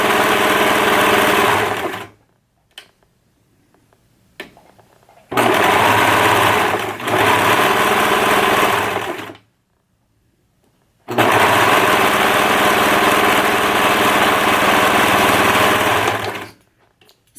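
A serger stitches the fabric pieces of a dress in three long bursts of fast whirring motor sound, loud and close, separated by quiet pauses with a few soft handling clicks.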